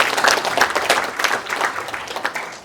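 An audience at an Indonesian national education council meeting applauds, a dense burst of many hands clapping in uneven waves that keeps going for the whole stretch, fairly loud and close.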